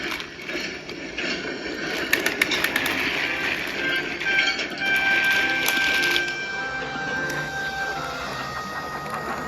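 Toy engines pull a train away with a continuous whirring, clicking mechanical clatter, steady and close, with a faint high whistle-like tone partway through and no talking.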